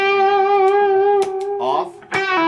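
An electric guitar through a Dumble-style drive pedal into a tube amp rings out with a thick, overdriven tone, sustained and loud, followed by a couple of sharper strummed chords.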